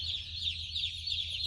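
Baby chickens being unloaded into a poultry house make a continuous dense chorus of high peeping and chirping from many birds at once, steady and fairly faint, with a low machine hum beneath.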